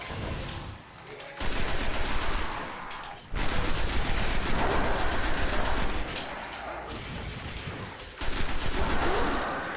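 Sustained automatic gunfire in the video game Destiny, loud and continuous in long bursts separated by brief pauses, with a muted stretch near the start.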